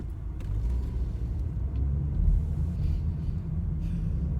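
Car driving in road traffic, a steady low engine and tire rumble heard from inside, constant and moderately loud with no talking.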